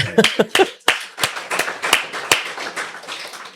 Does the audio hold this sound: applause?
yes